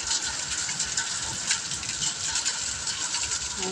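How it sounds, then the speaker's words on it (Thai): Steady, even rainfall on a construction site in Thailand, a continuous hiss with faint pattering and no breaks throughout. "แล้วฝนก็ตกลงมาทั้งวันเลยนะครับ"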